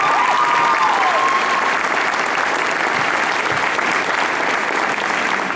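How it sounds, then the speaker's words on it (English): Steady, dense applause from a crowd at a college hall of fame induction, continuous and fairly loud throughout, with a brief whistle near the start. "So give her another round of applause,"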